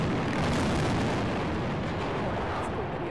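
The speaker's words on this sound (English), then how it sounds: "ALDOT crews use explosives to bring down the remaining ramp structure" Explosive charges bring down the remaining highway bridge ramp of the Red Mountain Expressway in a controlled demolition in downtown Birmingham, heard as a sustained, dense rumbling roar that fills the whole stretch without a break.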